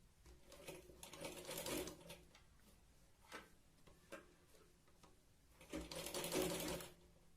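Sewing machine stitching the round cup panel of a katori blouse, running in two loud bursts with a quieter stretch of short ticking stitches between them.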